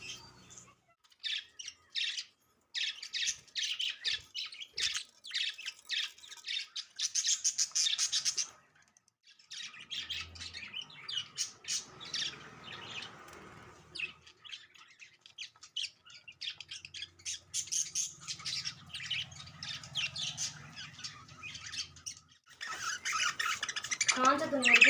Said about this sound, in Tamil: நம்ம வீட்டில் லவ் பேர்ட்ஸ் இருக்கிறதுனால ரொம்ப சத்தமாகவே இருக்குது.